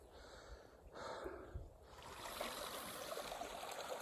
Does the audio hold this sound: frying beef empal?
no